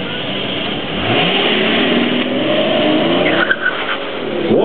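A Mercedes-Benz CL600 V12 engine revving hard at a 2007 acceleration mile event, loud close roar climbing through the gears with rising and falling pitch sweeps and tyre squeal, no voices.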